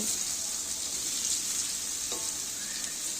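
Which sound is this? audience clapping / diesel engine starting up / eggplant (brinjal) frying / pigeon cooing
eggplant (brinjal) frying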